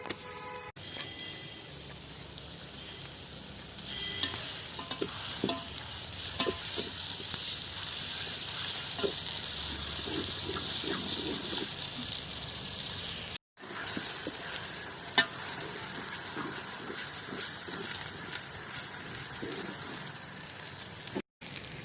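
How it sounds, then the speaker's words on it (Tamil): Onions sauté in a pan with green chilli and ginger-garlic paste for chicken biryani, giving a steady close sizzle with scattered stirring scrapes and clicks throughout, no talking. "வெங்காயம் நல்லா வதங்கட்டும்."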